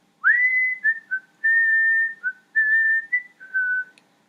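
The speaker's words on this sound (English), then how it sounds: "Then this whistling sound came." A single person whistles a short tune outdoors in a field, several sustained clear notes with brief gaps between them, close and fairly loud with no other sounds.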